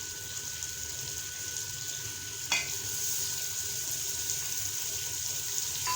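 Tomatoes frying with masala and meat in a pot for tinday gosht: a steady sizzle runs under occasional stirring, with one sharp scrape partway through.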